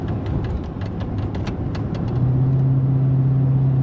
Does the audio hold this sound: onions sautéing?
no